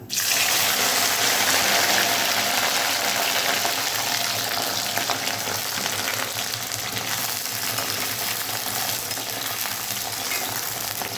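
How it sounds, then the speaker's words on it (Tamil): Cut okra sautéing in hot sesame oil for a spicy tamarind curry, a loud, dense, continuous sizzle that holds steady throughout with no talking. "எண்ணெய் நல்லாவே சூடாயிடுச்சு இந்த டைமில் கட் பண்ணி வச்சுருக்க வெண்டைக்காவை உள்ளார"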